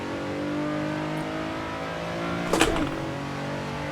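A Nissan 370Z Nismo engine in Assetto Corsa on the Nordschleife, a steady droning hum held at constant revs, with a short louder rasp just past the midpoint before settling back.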